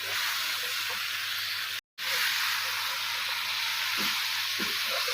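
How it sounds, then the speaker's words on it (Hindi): Okra sizzling and frying in a hot pan of softened tomatoes for masala bhindi: a steady, close, loud hiss with a brief gap partway through, and no voices. "अब हम इसमें ऐड करेंगे भिंडी, ये ऐड करके इसे भी डालकर हमने अच्छी तरह से भून लेना।"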